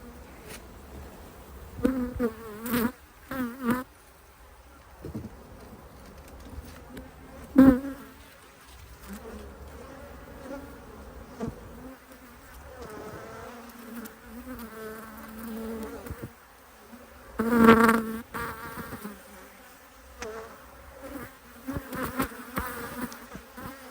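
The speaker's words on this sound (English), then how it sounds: "Very angry bees at the moment." Bees from a hive opened without smoke buzz persistently at close range, a dense droning hum with occasional sharper bursts as insects pass near.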